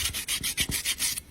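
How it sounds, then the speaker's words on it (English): Sandpaper rubbed back and forth on the tab of a Red Bull aluminium can, about seven quick rhythmic scratchy strokes, close and fairly loud, with no talk. "And I'm gonna sand on all the sides of the tab like that."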